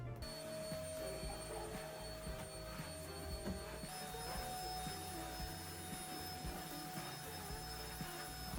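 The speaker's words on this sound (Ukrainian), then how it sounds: "Пилосос, і буду пилососити тут, поки в кімнаті" A household vacuum cleaner runs steadily while cleaning a room, a continuous whining motor drone with a steady tonal hum that shifts slightly partway through, heard fairly close with no talking.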